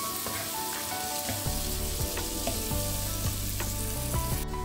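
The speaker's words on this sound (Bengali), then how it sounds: "তারপর আমি ভালো করে মিক্স করে নেব মটরশুঁটি আর আলুগুলোকে।" Peas and potatoes fry in spices for chicken keema, a steady close sizzle with repeated scrapes and clacks of a spoon stirring the pan, no voices.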